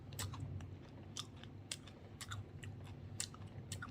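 Crunchy Pepero chocolate-coated biscuit sticks being bitten and chewed close up, a steady run of crisp crunches and sharp snaps with no talking.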